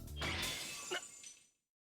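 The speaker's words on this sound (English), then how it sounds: "The sword that should have cut through Saber's arm shatters at the moment of contact." A sword shatters on impact in the Fate/stay night visual novel, a single sharp burst of breaking metal and glassy fragments that rings out and tinkles briefly before cutting to silence.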